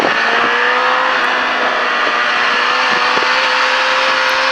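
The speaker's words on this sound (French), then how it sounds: "Voilà, et là tu relèves la moto et t'accélères." Motorcycle accelerating on the La Ferté Gaucher race track, a loud, steady engine drone with a slowly rising pitch that fills the whole stretch, close and continuous with no talk over it.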